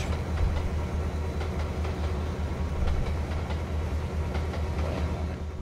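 A Conrail local train rolls along in Train Simulator 2012, a steady low rumble with faint rhythmic clicking of wheels on track, heard alone with no talk.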